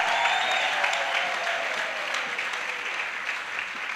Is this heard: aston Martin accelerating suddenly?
no